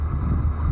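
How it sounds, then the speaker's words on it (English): Gusty wind buffets the microphone as a low, steady rumble near the Galveston Island ocean shore, constant and loud for under a second with no talk. "It's kind of windy today."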